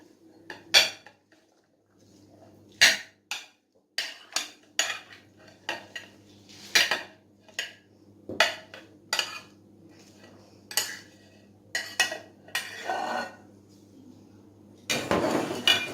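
Metal spoon clinks and scrapes against a bowl while fruit chaat is mixed with chaat masala, sharp irregular knocks repeating close by over a low steady hum, ending in a louder clattering burst.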